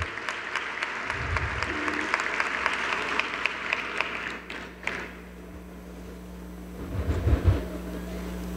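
At a construction industry congress awards ceremony, an audience applauds an honoured engineer with dense clapping for about four seconds. It then fades, followed by a few thuds and low rumbling.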